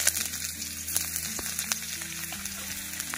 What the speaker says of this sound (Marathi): तेल चांगलं कडकडीत गरम झाले, पटकन कांदा टाकते